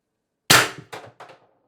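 An IntruBuster Gen 2 air-powered launcher fitted with a Titan IB-2 drum magazine fires a single loud, sharp shot up close, followed by two fainter rattling echoes or mechanical clacks.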